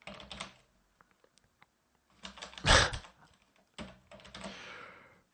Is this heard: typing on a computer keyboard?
yes